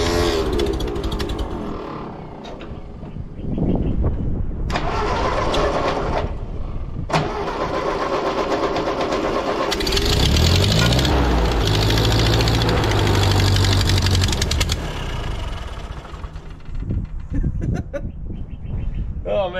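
An 80-plus-year-old Ford 9N tractor engine, apparently flooding, cranks in rough bursts, then catches and runs loudly with a rumbling idle. Voices speak briefly around it, and birds can be heard in the background.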